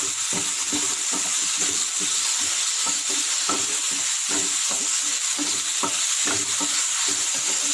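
Chopped tomatoes and coriander fry for masala chapatti while being stirred, a constant close sizzle broken by a steady rhythm of scraping, knocking utensil strokes in the pan, with no voices.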